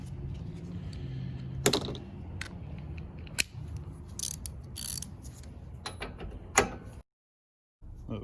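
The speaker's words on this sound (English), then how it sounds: "I want to take out the spark plug with a spark plug wrench" A spark plug wrench works a spark plug loose from a Briggs and Stratton lawn mower engine, giving close metallic clicks, scrapes and a few sharp knocks over low background hum, followed by a brief silence.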